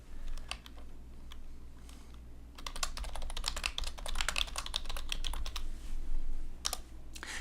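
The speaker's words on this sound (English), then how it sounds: "as you click in and start typing the information in" Steady computer keyboard typing with a quiet start that turns into a dense run of rapid, close keystrokes, heard alone over a low background hum.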